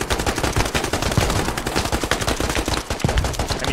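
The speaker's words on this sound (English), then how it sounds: "He's shooting way down the road." Rapid bursts of gunfire crack continuously in a dense, rattling stream, loud and sustained, during a shooting mission on a street.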